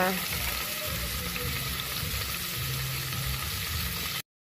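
Garlic, onion and ginger sautéing in a pan produce a dense, continuous sizzle at close range, steady and fairly loud until it cuts off abruptly near the end.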